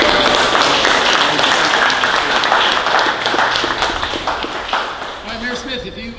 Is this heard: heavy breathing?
no